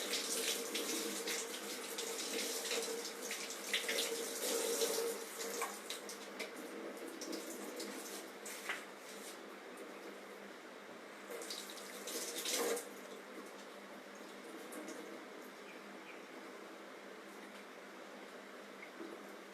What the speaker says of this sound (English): we put in the chilled water and the wash in the running water to stop the process of that.